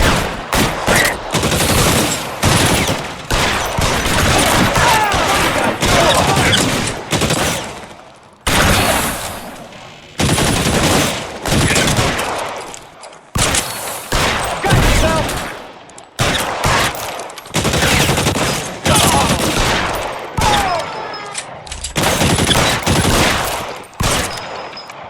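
A gunfight in the video game L.A. Noire: dense, continuous bursts of gunfire and loud cracking shots fill the whole stretch with barely any pause, rising and falling in short waves.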